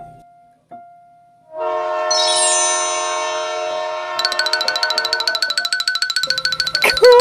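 A train sound effect in a children's phonics lesson: a few brief tones, then a long, loud sustained horn-like chord rising partway, turning into a rapid rhythmic chugging pulse before ending abruptly.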